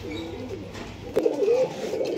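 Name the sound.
Old Line pigeon cooing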